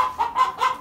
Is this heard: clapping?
no